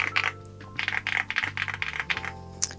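Fingers type quickly on a 96% keyboard with light Star Vector switches, giving a steady run of close, crisp clacks over a faint electronic hum.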